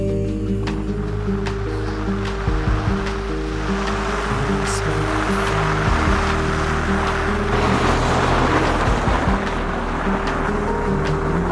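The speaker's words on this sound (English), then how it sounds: "the coming waves," Steady wash of surf with low rumbling undertones, continuous and fairly loud, like waves rolling onto a shore with no voices.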